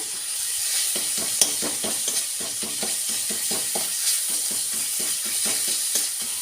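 Garlic and green chili paste frying in a pan for a telakucha (ivy gourd) curry, with rhythmic scraping stirs over a continuous close sizzle.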